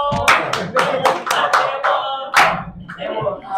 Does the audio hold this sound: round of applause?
yes